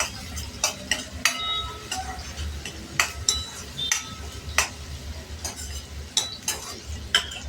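Onion sautéing in butter for paneer do pyaza gives a soft, continuous sizzle under repeated sharp clicks and scrapes of a spoon stirring against the pan.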